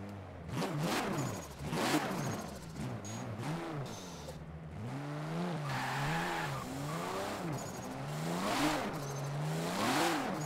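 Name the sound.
FD drift car engine revving, Forza Horizon 4 video game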